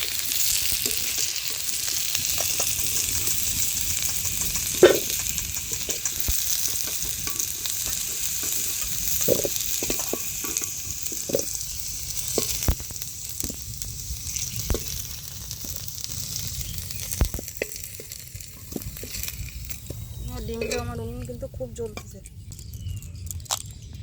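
Oil hisses and crackles in a pan while food is fried for a village-style egg curry, a steady close sizzle with stirring scrapes and clinks, under intermittent talk.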